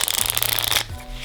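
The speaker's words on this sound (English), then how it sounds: "You can do, for example, a riffle shuffle and a bridge" A deck of playing cards is riffle shuffled, a rapid close fluttering burst of card edges, then bridged with a softer ripple as the cards cascade back together, loud and near with no talk.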